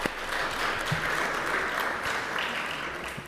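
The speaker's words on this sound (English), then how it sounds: "Clap it up for them, please." Steady applause from an audience in a council chamber during a zoning subcommittee session, continuous and even for a few seconds with no talking over it.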